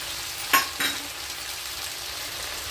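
Egg and chapati noodles are stirred in a hot pan, with a steady bright sizzle throughout and a couple of scraping strokes of the spatula near the start, close and fairly loud.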